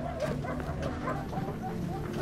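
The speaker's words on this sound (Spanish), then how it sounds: "Oíamos los gritos y los ladridos de los perros." Dogs bark and whimper in a camp setting, several short yelps rising over a muffled background of voices and shouting.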